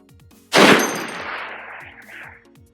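A single Barrett M107A1 .50 caliber rifle shot fired on an outdoor long-range course bursts out loudly and close, followed by a long rolling echo that fades over a couple of seconds.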